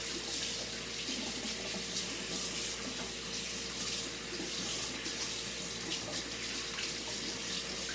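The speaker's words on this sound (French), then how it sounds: "après ça, on se lave les mains, encore une fois" Hands are washed under a running kitchen tap during baking, a steady close hiss and splash of flowing water that continues unbroken throughout.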